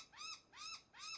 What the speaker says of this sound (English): Birds are back.